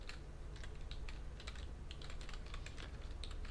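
Someone types a domain name on a computer keyboard, producing a steady run of light, quick key clicks with no break over a low background hum.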